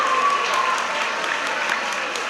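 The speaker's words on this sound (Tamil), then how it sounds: "நம்ம ஜோரா கைத்தட்டி நம்முடைய பாராட்டுதல்களையும் நன்றியையும் தெரிவித்துக் கொள்வோம்." An audience at a school ceremony applauding loudly, a dense sustained clapping from many hands that carries evenly for a couple of seconds before easing slightly toward the end.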